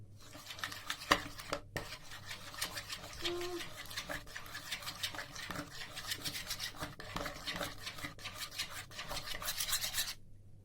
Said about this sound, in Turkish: Sarısını da soğuyan hamura tek tek ilave edip karıştıracağım